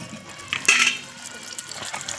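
Water splashes and pours briefly into a cooking pot on a wood-fired stove, a short burst of running liquid followed by quieter trickling.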